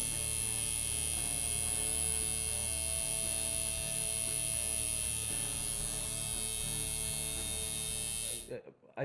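A tattoo machine fitted with a 5-round needle buzzes steadily and loudly up close during light shading, a continuous electric hum with faint talk beneath it, cutting off abruptly at the end.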